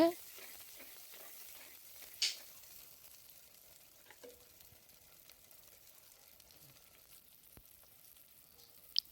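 Ingredients for a fish curry are sautéed in a pan, making a soft, continuous sizzle with occasional stirring clinks, quiet and close.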